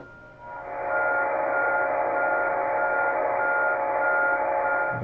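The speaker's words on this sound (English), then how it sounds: "That was an interesting beep." Over shortwave radio, an electronic beep signal pulses at an even, repeating rhythm through a bed of static noise, sustained for several seconds, fairly loud and with no voices.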